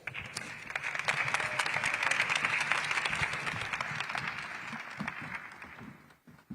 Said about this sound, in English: Let's give another round of applause for our outstanding moderator and our great panelists.